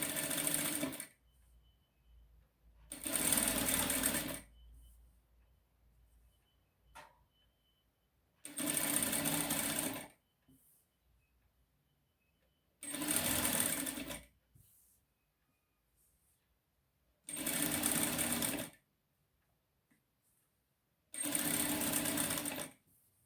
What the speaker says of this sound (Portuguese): E aí, então, eu vou passar uma costurinha aqui.